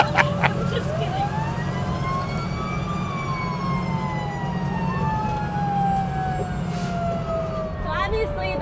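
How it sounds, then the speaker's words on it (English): A fire engine siren wails in long rising and falling sweeps over a rumbling truck engine during a ride along, loud and continuous from inside the cab. "the co-pilot's doing the siren and the lights"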